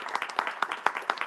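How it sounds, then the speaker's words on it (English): An audience claps in a short burst of applause at a keynote session, a dense spatter of hand claps with no voices on top. "Please round of applause."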